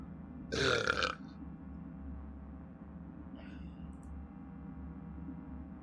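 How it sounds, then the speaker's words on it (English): A loud, drawn-out burp after drinking Red Bull, close to the microphone, lasting about half a second before fading into a steady low background hum during a Cyberpunk 2077 VR play session. "Excuse me for Red Bull burping in your ear."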